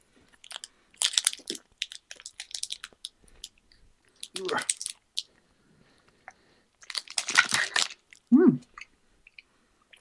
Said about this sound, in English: Oh well, they're crunchy.